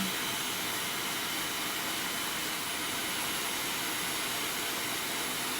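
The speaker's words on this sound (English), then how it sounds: "Let's use our blow dryer." A hair dryer blows with a steady, loud whooshing roar that stays constant throughout, close by and with no voices.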